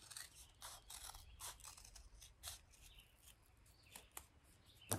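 Scissors trim a wooden tongue-depressor craft piece with a series of faint, quick snips and scrapes that come close together.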